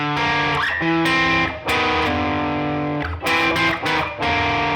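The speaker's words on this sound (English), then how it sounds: "it sounds great with distortion like this and overdrive" Distorted overdriven electric guitar playing slow blues using pentatonic patterns, sustained chords and notes ringing out with brief breaks between phrases.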